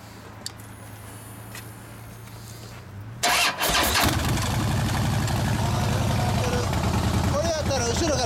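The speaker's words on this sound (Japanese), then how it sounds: "エンジンを仕掛けてもらえますか？" A 2012 MV Agusta F4R motorcycle with a German Bodis exhaust sits quietly for a few seconds, then fires up with a sudden loud start. It settles into a loud, close, steady idle with a raspy exhaust note.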